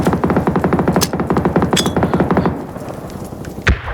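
An M249 light machine gun fires in PUBG on PC, a dense, loud continuous burst of rapid rounds for about two and a half seconds, then the rattle cuts off and a single sharp report follows.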